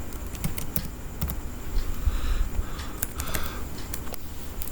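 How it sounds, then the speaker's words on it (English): Keys clatter in quick, uneven bursts on a computer keyboard, close and fairly clear over a low background hum, with no voice. "Let me type it for you."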